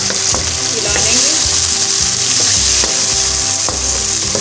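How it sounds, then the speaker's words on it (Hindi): About three medium tomatoes sizzle loudly in a pan as a spoon stirs them, a dense continuous frying hiss with occasional scraping knocks, close and without talk. "तकरीबन 3 दरमियाने साइज़ के टमाटर जो है हमने अच्छे से मिक्स कर लेना है, हिला लेंगे।"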